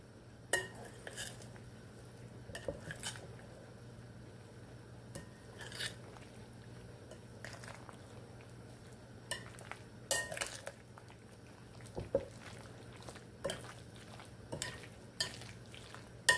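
A spoon folds Southern potato salad in a bowl, giving soft, irregular scrapes and occasional sharp clinks against the bowl over a quiet steady hum, with no talking.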